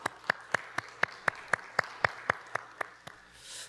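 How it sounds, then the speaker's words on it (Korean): Church congregation applauding in praise, a steady run of about a dozen distinct claps at an even rhythm, moderately distant and fading out at the end, with no talking. "우리 하나님께 영광의 박수 올려드리도록 하겠습니다"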